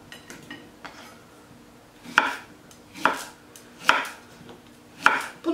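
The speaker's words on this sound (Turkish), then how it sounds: "Şöyle iri parçalar halinde verevine doğradım." A knife chops zucchini into large diagonal pieces on a cutting board, four distinct thuds spaced about a second apart, close and crisp.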